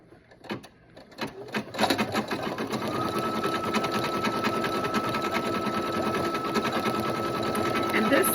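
A sewing machine stitches metallic thread onto a red dinner napkin, starting with a few slow stitches and then settling into a steady, fast, continuous whirring hum.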